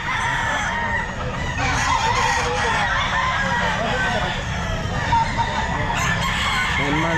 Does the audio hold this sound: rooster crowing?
yes